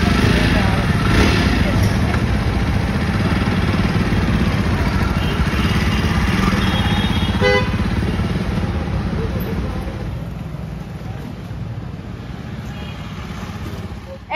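A Jawa Perak BS6 bobber motorcycle engine runs at a steady idle, a close, continuous low rumble that holds for the whole stretch and fades slightly toward the end.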